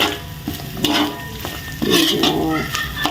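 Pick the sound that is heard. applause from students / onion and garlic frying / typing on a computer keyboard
onion and garlic frying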